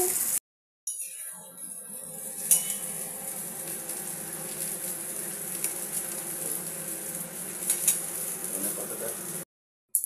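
Fish sizzles and spits in hot oil in a pan, a steady, close, continuous frying hiss with faint clinks of a utensil, briefly cut to silence near the start and the end.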